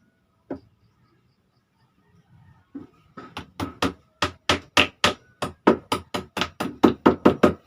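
Small nails are hammered while a sink is being fitted. There are a few scattered taps at first, then a quick run of about fifteen sharp, close hammer strikes that keep a fairly even rhythm and grow louder toward the end.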